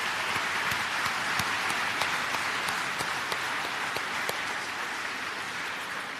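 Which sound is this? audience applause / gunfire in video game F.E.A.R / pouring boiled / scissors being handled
audience applause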